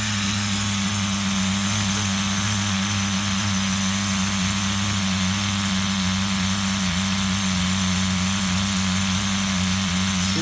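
A twenty-year-old HPI RS4 nitro RC F150 pickup engine idles steadily, a loud, close, continuous buzzing drone with no talking.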